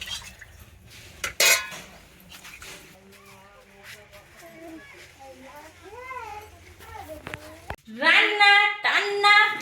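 Cooking pots are scrubbed and rinsed outdoors in a village after a meal of teora greens, with metal pots and utensils clanking sharply, water splashing now and then, and someone talking throughout while children's voices rise near the end.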